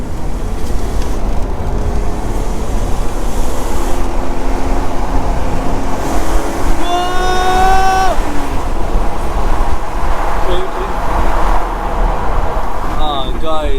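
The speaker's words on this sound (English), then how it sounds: "we can hear the sound of the straight 6-cylinder BMW" BMW E36 328i straight-six engine driving through a tunnel: a loud, continuous rumble heard from inside the car, with a clear rising rev midway and a voice briefly under the engine noise.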